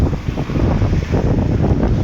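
Strong gusting wind batters the microphone outdoors where a truck waits to unload cargo, a loud continuous low roar with buffeting throughout, no voices.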